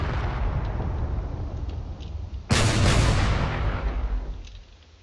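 Turrets in the space combat game Drone Wars fire at ships, a steady rumbling barrage that swells into a sudden loud burst of heavy blasts midway, then tapers off toward the end.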